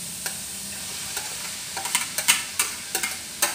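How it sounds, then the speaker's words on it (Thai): Pork sizzles as it is stir-fried in a pan for a basil stir-fry with carrot, long beans and onion, with steady frying hiss broken by sharp, irregular clacks of a utensil scraping the pan, close and alone. "ผัดหมูให้สุกด้วยจ้ะเด้อ"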